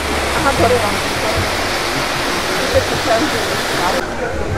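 Waterfall cascades at a zoo pouring steadily, a dense even rush of falling water with faint voices beneath it.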